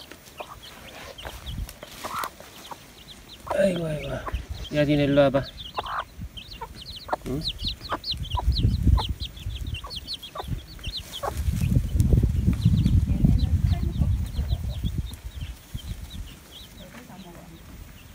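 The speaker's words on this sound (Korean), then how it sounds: "병아리들은 신났다 아주." Chicks and hens cheep and cluck around a farmyard where natural loofah gourds are being boiled, scattered calls overlapping with a person talking to the birds nearby.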